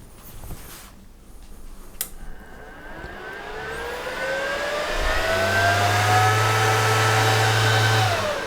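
The ESAB Rogue ES 200i Pro welding inverter powers up, its cooling fan spinning up with a rising whine that grows louder and settles into a steady hum with a low tonal drone, close and alone.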